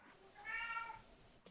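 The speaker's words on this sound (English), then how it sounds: "Mamacita Cat has joined us." A domestic cat named Mamacita lets out a single drawn-out meow, clear and fairly close, in a quiet kitchen while pasta is being made.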